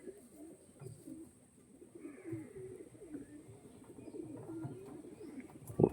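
A female Andhra Kalanka, Tatira or Gola line breed pigeon coos in a steady run of low, throaty calls close by, ending with a louder burst near the finish.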